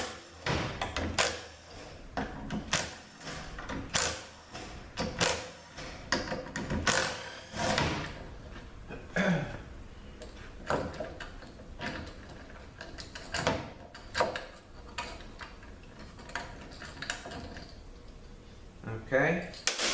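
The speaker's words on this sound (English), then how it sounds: "So let's take these bolts out." Bolts coming out of a 4L80E automatic transmission: a series of sharp metallic clanks, ratchet clicks and tool knocks in irregular bursts, close by, with a person talking intermittently throughout.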